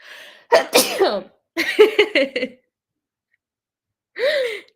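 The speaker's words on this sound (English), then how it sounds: "I need to sneeze." A man sneezes in a quick burst of two or three loud, close explosive bursts, followed after a pause by a shorter sniff-like exhale.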